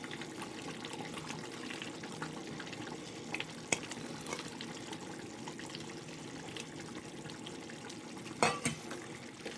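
Thick anchovy fish gravy bubbling and simmering steadily in a pot, soft continuous gurgling with a couple of small clinks, fairly quiet, no voices.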